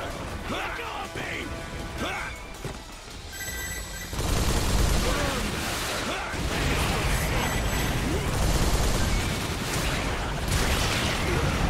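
Weapons firing at enemies in the video game Earth Defense Force 5: after a few seconds of speech, loud continuous gunfire and explosions take over and keep going to the end.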